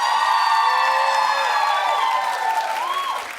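A talk-show studio audience claps and cheers for a poll, with bright whoops and shouts riding over sustained applause that eases slightly toward the end.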